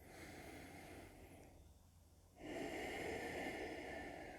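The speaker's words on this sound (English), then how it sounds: "And take 2 deep breaths here." Slow, deep breathing during a yoga practice, a soft steady exhale that swells louder partway through, heard alone and close with no talking.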